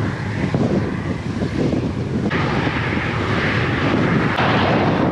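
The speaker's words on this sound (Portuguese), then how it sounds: "tem muito vento contra" Strong headwind blasting into the microphone of a cyclist on a bike trip around Lagoa dos Patos, a loud continuous roaring rumble with gusty buffeting that never lets up.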